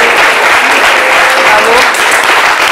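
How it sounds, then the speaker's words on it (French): A studio audience applauds loudly for the season 3 winner of The Voice Afrique francophone, dense continuous clapping filling the whole moment at close range. "Merci d'applaudir très fort"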